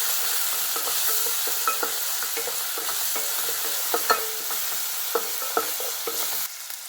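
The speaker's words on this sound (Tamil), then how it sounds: "கொஞ்சம் இஞ்சி பூண்டு விழுது, நல்லா பச்சை வாசனை நல்லா வதக்கணும்." Ginger-garlic paste sautés in a hot pan while mushroom gravy is being prepared, giving a steady close sizzle broken by frequent clicks and scrapes of a spoon stirring, with no talking.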